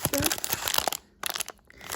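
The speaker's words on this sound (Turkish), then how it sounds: "Bunlar kese kağıdı gibi poşetler." A Bratz Limited Edition Minis surprise pouch, a paper-bag-like packet being handled up close, gives off loud bursts of crinkling and crunching, then a brief pause before the rustling resumes more softly.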